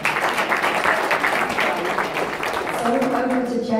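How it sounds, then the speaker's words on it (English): Clapping from an audience at a charity donation event fills the space in a short, dense burst, and a voice begins talking over it near the end. "Big clap, everyone."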